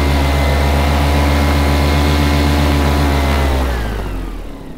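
A paramotor engine runs loud and close with a steady, buzzing drone during a landing approach in mild wind. It spools down over the last second, and wind rush lingers.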